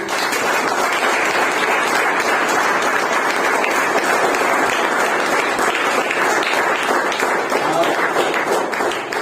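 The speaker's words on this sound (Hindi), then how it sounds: "आइए हम परमेश्वर को धन्यवाद के लिए ताली बजाएंगे" A church congregation at a Sunday service in Balrampur claps steadily in thanks to God, a dense, even wash of many hands that carries on at full strength for the whole stretch without a break.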